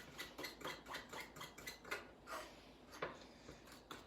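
A fork scrapes and taps steadily against a bowl, mixing a wet steamed sponge cake batter in quick, repeated strokes at close range.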